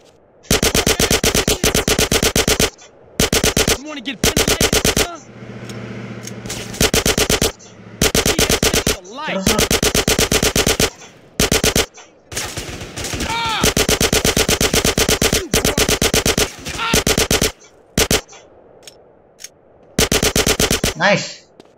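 Rapid automatic gunfire in GTA San Andreas, long loud bursts of shots broken by short pauses, with a voice talking faintly in a gap between volleys.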